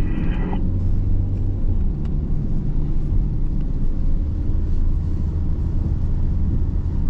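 Peugeot 508 PSE rolling on a race circuit during a warm-up lap behind the safety car, a steady loud engine drone and road rumble that holds constant throughout without pause.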